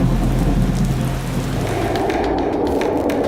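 Heavy rain falls steadily in Ziro, Arunachal Pradesh, a loud dense hiss with low rumbling underneath, continuous throughout.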